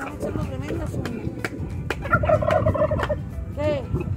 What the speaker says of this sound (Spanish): Miren los guajolotes.